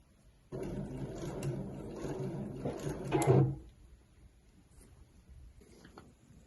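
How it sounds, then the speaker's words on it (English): A sewing machine runs steadily while stitching a folded-edge placemat seam, a close continuous mechanical hum that swells briefly before dropping to quieter handling noise. "then we just want to sew along that line."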